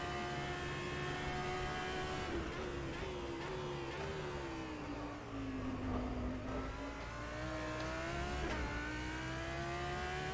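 Audi GT3 race car engine at Sebring in the rFactor 2 racing game, a steady droning roar whose pitch dips and climbs through gear changes and corners, heard alone at moderate level.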